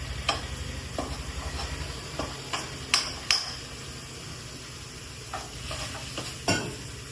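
Duck curry with onions being stirred in a pan, a soft steady sizzle with intermittent scraping and tapping clicks of the spoon against the pan, fairly quiet and close, with no talking.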